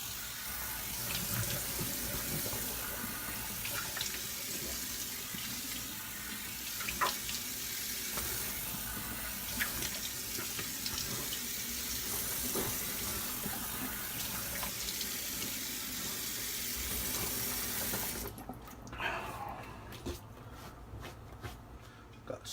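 Running water from a tap splashing steadily into a sink while something is rinsed off after a shave, a continuous close wash of sound that thins and drops away near the end.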